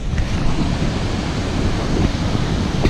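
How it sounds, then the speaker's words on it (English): A large waterfall in Iceland roars loud and constant, a dense unbroken rush of falling water mixed with wind buffeting the microphone. "It's a big, huge waterfall."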